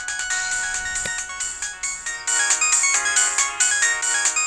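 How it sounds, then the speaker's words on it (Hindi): A mobile phone in a South Indian action film plays a loud, bright melodic ringtone. The short repeating musical phrase runs on alone, with no voices over it. "वही फोन कर रही है उठा यार।"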